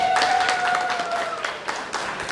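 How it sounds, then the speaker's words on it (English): Audience clapping at a multi-level marketing training session, a crowd of hands applauding quickly and fading slightly, while a steady sustained musical tone plays through the first half. "Let us clap for her."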